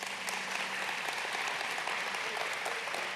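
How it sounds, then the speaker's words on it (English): Audience applause for honored guests at a city State of the City event, steady dense clapping from a large crowd filling the whole moment without pause. "I think it's appropriate to give them a round of applause."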